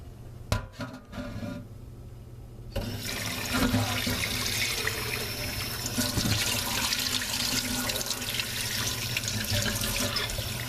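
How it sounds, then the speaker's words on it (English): Warm tap water runs steadily over soaked lentils being rinsed through a sprouting screen. A few clicks and knocks come first, then a continuous, fairly loud rush of running water with no voices. "what we need to do is give it a rinse and use warm water"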